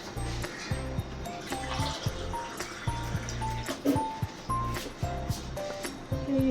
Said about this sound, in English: I'm going to add some more water.